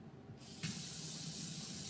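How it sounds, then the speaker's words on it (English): Tap water runs into a kitchen sink to wash cauliflower, starting as a soft trickle and then opening into a strong, steady hissing spray that fills the rest of the moment. "So you put the water on"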